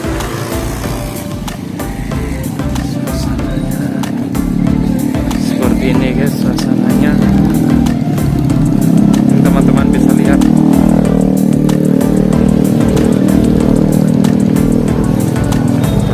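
Motorcycle and car engines rumble and rev steadily at a busy predawn vegetable market in Soriutu, Manggelewa, Dompu, as vehicles load vegetables, with someone talking over the traffic noise.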